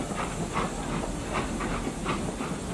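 Steam locomotive puffing and hissing as it pulls away: steady broadband hiss with soft rhythmic chuffs recurring about every half second, moderately loud and continuous, with no voices.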